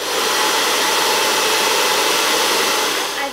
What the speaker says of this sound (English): take the hairdryer and clip it onto the end